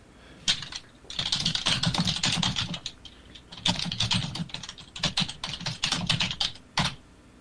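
Rapid typing on a computer keyboard, close and clear in bursts of clicking separated by short pauses, with no talk over it.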